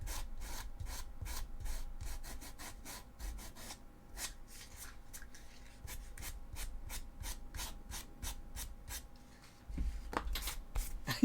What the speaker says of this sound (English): I'm just sanding it smooth